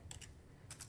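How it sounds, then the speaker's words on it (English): Computer keyboard keys are tapped during a video game in two quick pairs of clicks, close and fairly quiet. "What am I typing?"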